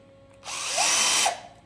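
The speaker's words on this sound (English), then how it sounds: "I will drill and put it on drill mode 2 and 19" Parkside cordless drill, a 12 V PABS 12 B2 or 20 V PABS 20 LI C3 on drill mode 2 at setting 19, whirs up suddenly into a steady, loud high-pitched drilling burst lasting under a second, then cuts off.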